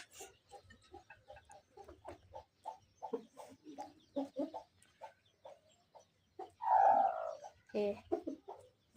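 Chickens cluck in a steady series of short, close calls, with one louder squawk rising above the rest near the end.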